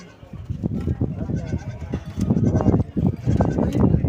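Several goats bleat repeatedly at close range at the Tungwali goat market, short overlapping cries in an irregular rhythm, with murmured voices and farmyard noise behind them.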